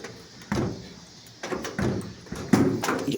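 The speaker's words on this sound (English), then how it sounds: "Get the door open." The door of a 1949 Plymouth car is opened: a few quiet, close metallic clunks and a latch click spaced about a second apart.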